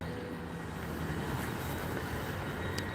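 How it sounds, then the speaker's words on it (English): A CrossCountry Class 170 diesel multiple unit pulls away from a station, its steady low engine rumble and rolling wheel noise continuous and fairly distant, with a brief high squeal near the end and no voices. "cross country class 170 is just left"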